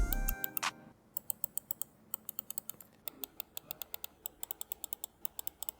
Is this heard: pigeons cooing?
no